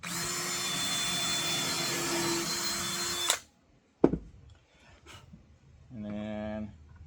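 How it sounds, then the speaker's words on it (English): A power drill bores into a wooden hat rack, whining steadily and loudly for about three seconds before cutting off, followed by a few knocks and brief handling sounds. "Run your drill bit."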